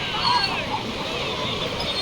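Sea surf rolls and washes steadily along crowded Digha beach, a continuous broad wash of waves with bathers nearby, no clear voices standing out.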